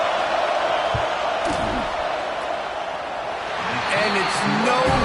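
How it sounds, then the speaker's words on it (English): Football stadium crowd roaring and cheering as a field goal attempt is lined up, a loud, sustained wash of noise with some whoops, and a commentator talking over it. "This crowd trying to do its part to get inside the kicker's head."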